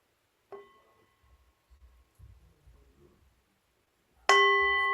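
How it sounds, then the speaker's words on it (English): A meditation bell is struck twice to open a yoga nidra session, a soft ring that fades followed by a louder, bright ring with a long sustained tone, with quiet low murmurs in between. "Listening to the sound of the bell as it invites us into this inner journey of Yoga Nidra."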